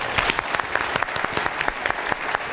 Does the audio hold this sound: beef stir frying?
no